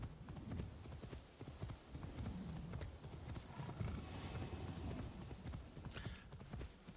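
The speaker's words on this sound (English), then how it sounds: "It looks cooler than the regular horse, so I'm riding it." Hooves of a demon horse mount being ridden in Assassin's Creed Shadows, set in feudal Japan, beating a steady, continuous clip-clop over soft ground noise, with no talking.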